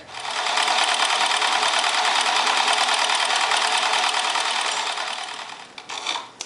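Steady, continuous whir of a sewing machine stay stitching fabric for a 1946 Vogue vintage dress, running for several seconds, then slowing and stopping near the end.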